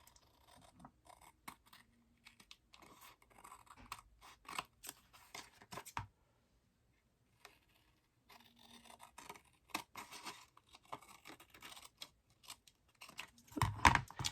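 Scissors snip and trim paper for a handmade Eternal Egypt journal, a run of crisp, close cuts with a brief pause midway, then more snipping, ending in a louder burst of rustling and handling.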